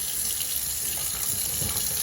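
Water running steadily from a newly installed Project Source pulldown sprayer utility faucet into a sink, a constant close splashing rush that carries on without a break and with no talking.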